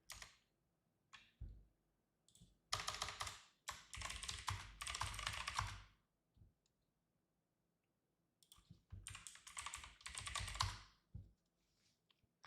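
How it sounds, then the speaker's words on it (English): Quick bursts of typing on a computer keyboard at a trading desk, close and crisp clicking in two main flurries separated by pauses, with a few isolated key taps between them. "I'm just typing this up real quick."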